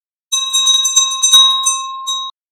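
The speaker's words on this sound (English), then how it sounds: "When a bell jingles, it shakes and vibrates." A bell rings out clearly on its own in a series of bright, quick metallic strikes that blur into a short jingle before ringing off, close and loud.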